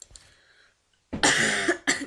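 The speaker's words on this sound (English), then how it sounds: "Coughing." Two loud, close coughs in quick succession after a brief quiet stretch, during Minecraft gameplay.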